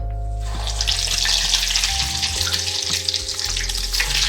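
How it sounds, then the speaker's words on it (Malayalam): Unnakaya, Kerala plantain dumplings, fry in hot oil with a steady, close bubbling sizzle throughout, joined by low background hum and faint clinks of a utensil. "ബാക്കിയുള്ളതെല്ലാം ഇതുപോലെ വറുത്തെടുക്കാം"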